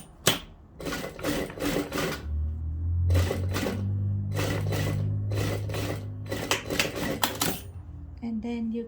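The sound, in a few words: sewing machine stitching a bra cup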